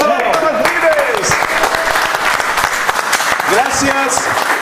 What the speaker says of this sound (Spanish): Y a Roberto Martínez, un aplauso